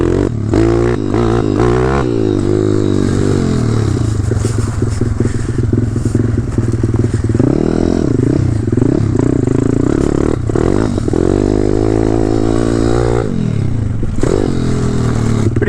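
A pit bike's small engine revs and buzzes loudly and close during urban jumps, pitch rising and falling in bursts, with scraping and clattering over the continuous motor noise and no talking.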